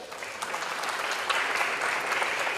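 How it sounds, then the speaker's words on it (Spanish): An audience at an international circular economy forum applauds to welcome a panelist, a steady wash of many hands clapping at even loudness for the whole stretch. "Lo recibimos, por supuesto, con fuertes aplausos."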